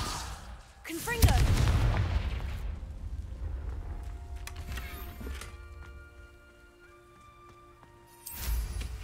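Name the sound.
Confringo spell blasts in the video game Hogwarts Legacy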